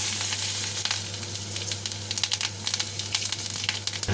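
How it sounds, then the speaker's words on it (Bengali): Cumin seeds hit hot oil in a kadai where fish was just fried, producing a loud, continuous frying hiss with scattered sharp crackles throughout. "এখানে কড়াইতে একটু তেল আছে, আমি এই তেলেই দিয়ে দেবো জিরে ফোড়ন"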